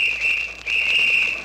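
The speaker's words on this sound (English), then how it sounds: "Uh-oh, a whistle. Is that a policeman?" A shrill, steady police whistle blast with a brief break in the middle, loud and piercing, sounding alone.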